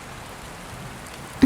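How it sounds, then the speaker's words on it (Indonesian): Steady, soft rain patters with an even hiss, then a short louder thump at the very end. "Karena tante suka banget sama suara hujan."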